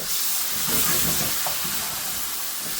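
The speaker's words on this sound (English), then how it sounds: "So that's been about 5 minutes, it's had a really good sizzle." Food sizzles steadily in a hot pan while cooking vindaloo with tomato, a loud continuous crackling hiss close by, with faint stirring scrapes underneath.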